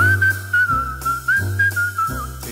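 A melodic whistled tune carries a song, steady and prominent over a rhythmic accompaniment, alone without any voice.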